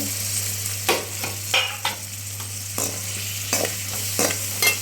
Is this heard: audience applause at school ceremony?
no